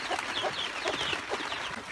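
Several chickens, including a hen with chicks, cluck softly in wet weather amid steady background noise, with short chirpy calls scattered throughout.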